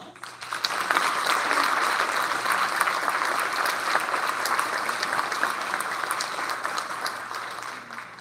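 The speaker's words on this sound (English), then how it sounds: "you may give your applause." An elementary school awards audience bursts into applause, with individual claps audible within a sustained, moderately loud round that continues throughout.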